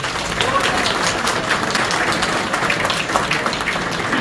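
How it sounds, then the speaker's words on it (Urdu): Applause from a crowd at a community meeting honouring guests: a dense, steady wash of many hands clapping at once, fairly loud and continuous, with no break. "ان کے لیے پلیز بھرپور تالیاں"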